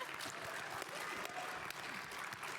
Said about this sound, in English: Oh my God, we get an applause.